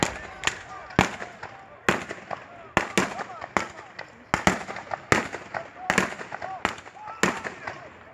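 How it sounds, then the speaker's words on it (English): A Henry repeating rifle fires rapidly outdoors, about a dozen loud, sharp cracks spaced roughly half a second to a second apart, with lever-action clatter between shots and some background voices. "now you can see the rapid fire effect of the Henry repeating rifle"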